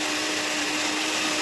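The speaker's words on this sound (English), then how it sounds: "what I'm going to do now is to just blend the coconut" Steady, loud whir of a kitchen blender grinding coconut for sweet potato pudding, running continuously with no talking.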